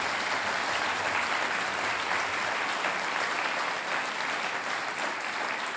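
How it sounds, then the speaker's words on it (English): A sustained round of applause from an audience for the Lacken family and staff, a steady, fairly close wash of many clapping hands with no talking over it. "particularly the Lacken family, that I think deserve a big round of applause."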